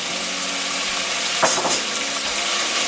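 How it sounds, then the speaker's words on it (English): Very thin beef slices stir-fry in a pan over high heat with a loud, continuous sizzle, broken by a brief clatter of the meat being stirred, and no talking. "I'm gonna put all the meat."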